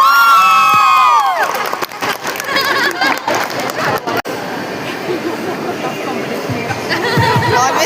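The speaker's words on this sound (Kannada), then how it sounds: "ಜೋರಾಗಿ ಚಪ್ಪಾಳೆ ಬರಲಿ ವರ್ಷದವ್ರಿಗೆ" A crowd at an RCB cricket fan gathering cheers and whoops, then breaks into sustained clapping mixed with shouting and babble, loud and close throughout.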